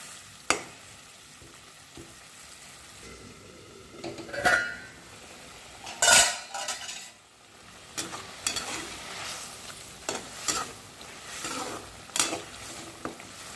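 Ivy gourd (kovakkai) pieces drop into a boiling Chettinad gravy in a pot, giving soft splashes and clatter over a steady bubbling sizzle. A few utensil knocks follow, close up with no talking.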